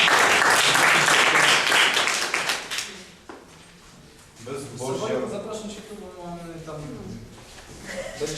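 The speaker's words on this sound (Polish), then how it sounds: "Brawa dla Wojtka." Festival audience applause bursts loudly at first and fades out after about three seconds, then someone talks for the rest of the clip.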